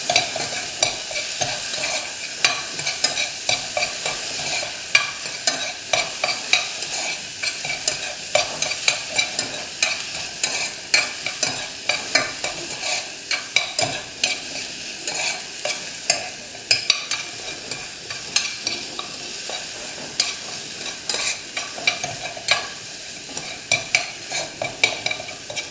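Onions frying in a pan for a chickpea curry, a steady bright sizzle with frequent scraping, clicking stirs running continuously throughout, close and fairly loud with no voices.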